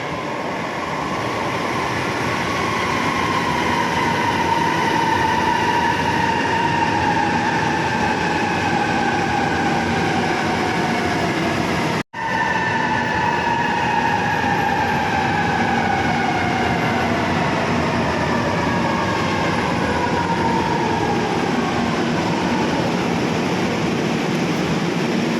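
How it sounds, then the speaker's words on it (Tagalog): MRT train at a Manila station during rush hour, a loud rumbling roar with whining, sweeping tones as it moves along the rails, continuous for the whole stretch with one momentary cut midway. "MRT station."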